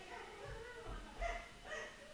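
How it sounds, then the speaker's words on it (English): Neighbor's dogs barking outdoors, a few faint distant woofs spaced across a couple of seconds under low background noise. "I apologize for the noise outside. That's my neighbor's dogs."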